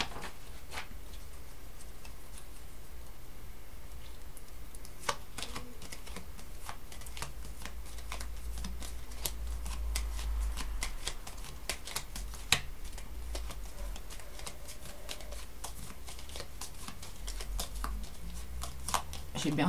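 A deck of tarot cards is shuffled and cut during a cartomancy reading, giving repeated sharp card snaps and soft riffling clicks at an irregular pace, while someone speaks quietly at times.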